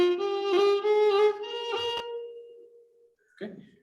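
A single sustained Carnatic melodic line is ornamented with a gamaka that wavers between two notes in quick oscillation, fading out before a brief, faint trailing sound.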